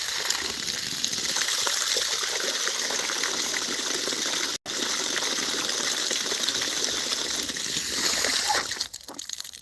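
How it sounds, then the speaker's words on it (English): Water gushes loudly and continuously from a pipe or tap into a trough for donkeys outdoors, a close, dense splashing rush with one momentary dropout near the middle. "That's some good water."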